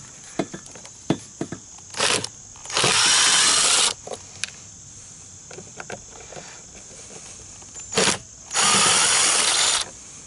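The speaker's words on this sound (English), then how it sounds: "the Ryobi, you know, 1/4-inch impact driver" A Ryobi 1/4-inch impact driver takes the battery terminals off a Suzuki KingQuad 300 ATV in two loud rattling bursts of about a second each, with small clicks and handling noises between them.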